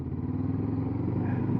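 A Honda CB500X motorcycle is ridden on an evening road, its engine giving a steady mid-pitched drone with a faint rattle, heard close and alone for a brief stretch.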